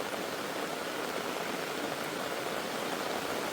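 Rain pours onto a chili field in a village, a dense, steady broadband hiss like rushing water, close and unbroken, with no talking.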